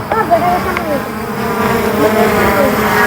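A small consumer drone hovers close by, its propellers giving a steady whining buzz with wavering pitch, heard under someone talking.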